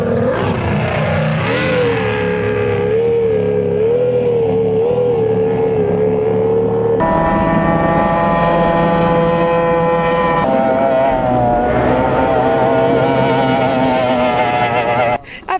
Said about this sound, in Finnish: voi katsoa tuosta laiturilta ja seurata tuon veneen kulkua